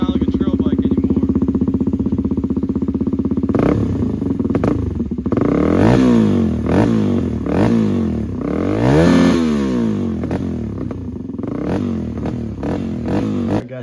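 A Suzuki DR-Z250 dirt bike engine with its exhaust baffle removed revs hard and loud, its raw unmuffled roar rising and falling through several sharp throttle blips in neutral, with clattering mechanical noise.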